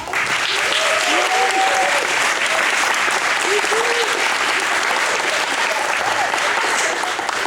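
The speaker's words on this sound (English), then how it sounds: "Let's give our actors another round of applause." Sustained audience applause for the actors at the end of a rock and roll stage show, a dense steady wash of many hands clapping throughout, with a few voices calling out faintly underneath.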